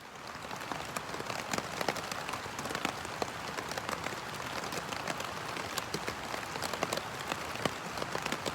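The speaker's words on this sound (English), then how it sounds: "It rained all night long. It poured, and then it stopped" Rain pattering steadily on a tent at night during a hike in the New Hampshire mountains, a dense, even hiss of drops with occasional sharper taps, soft and constant.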